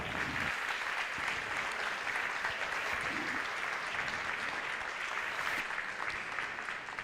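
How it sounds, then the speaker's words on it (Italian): Audience applause at a bocce tournament memorial event, a sustained wash of many people clapping at an even level, continuing steadily for several seconds with faint voices underneath. "La famiglia Pradella con ulteriore applauso."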